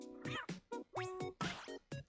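A cartoon cat in the rhythm game Rhythm Heaven Groove meows in a quick series of bright, clear bursts with short gaps between them, sounding loud and close with nothing else behind them.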